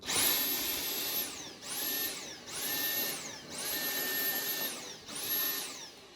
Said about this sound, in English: the vacuum itself was shutting off and turning on, shutting off and turning on